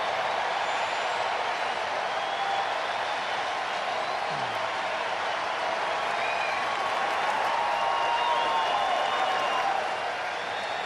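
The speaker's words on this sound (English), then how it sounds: "And now for the first time tonight, the Truist Park crowd" Stadium crowd at Truist Park during a baseball game, a steady broad roar of cheering and applause from a large audience, sustained and fairly loud throughout with no break.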